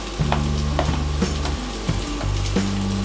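Chopped garlic and a finely chopped medium onion dropped into hot oil, a steady close sizzle with occasional stirring scrapes from a wooden spoon.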